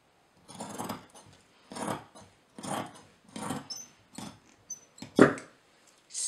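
Scissors cut through shirt fabric in about eight rhythmic crunching snips, close and clear with short pauses between them.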